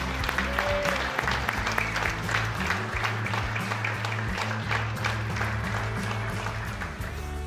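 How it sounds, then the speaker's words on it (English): A crowd claps steadily and warmly, a sustained wash of applause with a low musical tone running underneath. "give me a big round of applause for your hometown boy, Denny Brauer."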